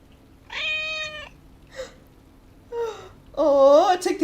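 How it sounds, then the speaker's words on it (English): A tabby kitten in Dragon Age Origins Awakening gives several clear, close meows: a long drawn mew, a short chirp, then two more plaintive cries, with quiet pauses between them. "Kitten! An adorable tabby kitten."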